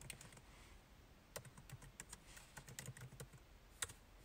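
Program code is typed on a computer keyboard in quick irregular bursts of sharp key clicks, close up but quiet, with short pauses between runs and no voices.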